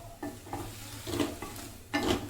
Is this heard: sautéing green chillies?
yes